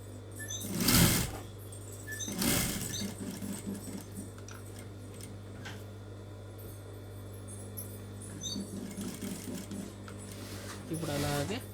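A sewing machine stitches along a blouse border in short bursts, with quiet pauses between runs and a steady low hum underneath, fairly close and moderately quiet.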